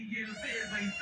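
A cat gives one close, drawn-out, wavering meow with a whiny, crying tone, lasting about a second.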